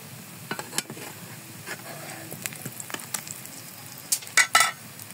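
Coconut pitha sizzles in a hot pan after being flipped one by one, a steady fry punctuated by sharp clinks and scrapes of a utensil against the pan.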